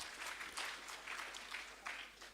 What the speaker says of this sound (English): Join me in thanking them with a clap.